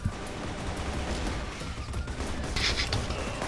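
Kalashnikov gunfire in a first-person shooter video game, a dense continuous burst of rapid shots and crackle filling the whole moment.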